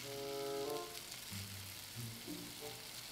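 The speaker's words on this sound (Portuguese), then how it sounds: "Colocar o filé de salmão na panela. Vamos lá. Tá fritando." Salmon fillet frying in a pan in the video game Cooking Simulator, a soft steady sizzle with faint crackle, joined by a few brief tonal game-interface tones.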